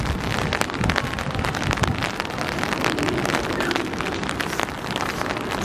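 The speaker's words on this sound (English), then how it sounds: "So rainy, wintry day." Steady rain on a wintry day in a water village in Shanghai, a dense continuous hiss of drops pattering on surfaces, loud and close, with some wind buffeting and no speech.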